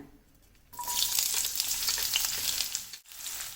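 Onion for a stuffed paratha hits hot oil after a quiet moment, bursting into a loud, steady sizzle that crackles continuously, dips briefly and then resumes frying.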